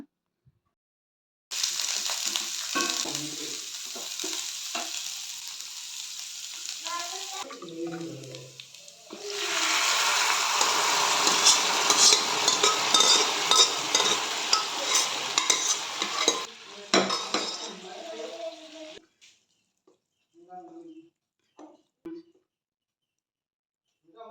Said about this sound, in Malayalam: ലാസ്റ്റ് കടുകിട്ട് വറുത്ത് അതിലേക്ക് ഒഴിക്കുകയാണ് വേണ്ടത്